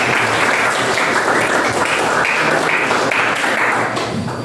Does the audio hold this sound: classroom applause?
yes